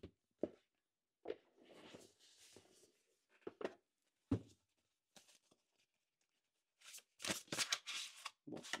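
Oracle cards being shuffled, several short papery riffles and soft slaps spaced apart with quiet gaps, close and faint, ending in a denser flurry of shuffling.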